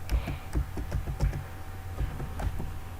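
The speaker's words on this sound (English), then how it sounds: "In this, you need to type sfc" Keys on a computer keyboard tap out a short command in a quick, close run of soft clicks and thumps, with no speech.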